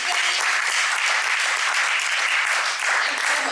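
An audience at a business conference claps steadily and loudly throughout, a dense, continuous burst of applause filling the room.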